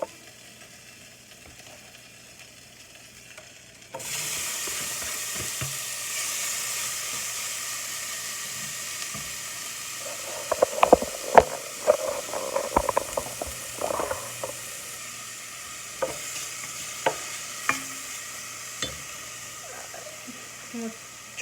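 Green beans sizzle and hiss steadily in a hot frying pan, the broadband frying noise starting abruptly and holding for the rest of the clip, with a burst of clattering near the middle and a person speaking over it.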